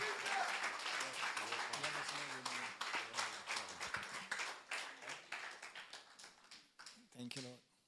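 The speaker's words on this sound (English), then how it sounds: "Let's give him a wonderful hand of applause as we welcome him" A church congregation at a River of Love gathering in Malta claps to welcome a pastor, the applause thinning into scattered claps as a voice speaks over it.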